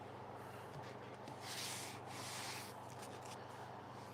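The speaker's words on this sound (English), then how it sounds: "This little sanding pad's brilliant." A small sanding pad rubbed back and forth over wood gives a soft, steady scratchy hiss close by, swelling slightly midway, with no talking.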